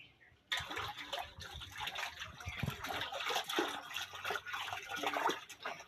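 A wet shoe is dunked and scrubbed in water, producing a continuous near splashing and sloshing that stays steady for several seconds after an abrupt start.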